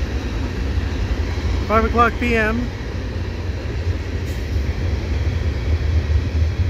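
A Burlington Northern freight train passes at Dorval, producing a steady low rumble throughout, while someone speaks briefly near the microphone.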